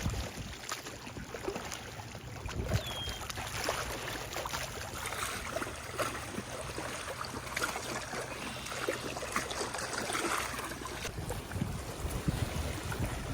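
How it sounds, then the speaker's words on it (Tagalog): Rough waves slosh and slap against a small fishing boat on open water in Canada, a steady, fairly faint rushing wash with light wind and occasional knocks. "Malakas ang alon dito."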